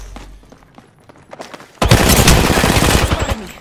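Loud sustained automatic gunfire in the Apex Legends video game, a dense rapid burst filling the second half after quieter scattered shots and clicks.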